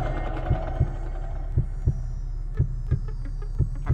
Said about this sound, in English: Heartbeat minigame equals easy.